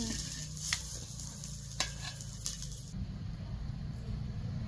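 A big batch of fish, about one and a half kilos, shallow-frying on a flat tava, giving a steady close sizzle with a few sharp pops and clinks from handling; no one speaks.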